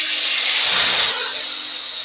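Spice paste hitting a hot pan and sizzling loudly while cooking a Bengali steamed egg curry, a dense steamy hiss swelling briefly then settling into a steady crackle.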